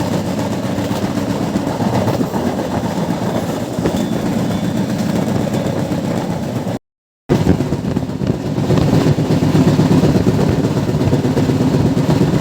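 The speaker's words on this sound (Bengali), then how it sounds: "আমাদের ট্রেন আবার তার গতি বাড়ানো শুরু করে" Modhumoti Express passenger train on the Dhaka to Rajshahi line rolling along and picking up speed, a steady loud rumble of wheels and carriages with a brief dropout midway, then the running noise resumes and grows slightly stronger.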